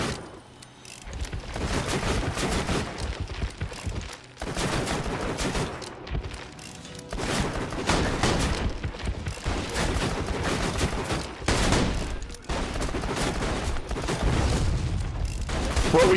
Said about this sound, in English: will you please stop shooting your shotgun at me?